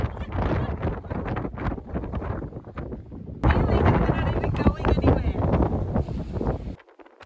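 Strong wind of around 36 knots buffets a sailboat at anchor off Cape Upstart at midnight, a loud, continuous, gusting roar with heavy rumble that surges louder partway through.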